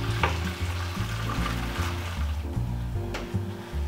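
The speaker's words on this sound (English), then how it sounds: "I'm gonna pour the contents of these pots into the sieve" Hot zobo (sorrel) drink being poured from pots through a sieve, a continuous close splashing and trickling of liquid with a few clinks of metal against the pot.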